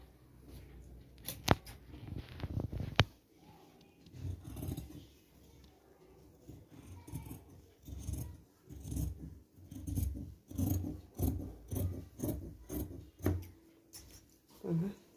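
Scissors cut through petticoat cloth during a tailoring lesson, giving a run of close, crisp snips and fabric rustles in irregular bursts, with a voice faintly present.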